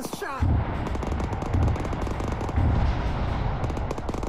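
Rapid automatic gunfire in the Arma 3 military game, loud and close, with steady fast rhythmic shots and heavier thumps recurring about once a second throughout.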